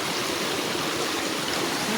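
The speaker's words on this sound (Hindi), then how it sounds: "देखा मिनी झरणा" A small waterfall stream flows through a forest with a continuous, fairly loud rushing and splashing that holds steady from start to finish, with no talk.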